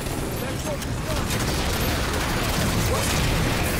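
Rapid gunfire rattles in the first-person shooter Halo 5, a dense continuous burst of shots and mechanical weapon noise, with a player's voice talking over it.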